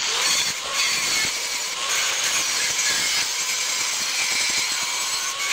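A Powerhouse angle grinder grinds the metal of a multicab canopy at close range, a loud, bright, continuous abrasive screech with small surges in pressure throughout.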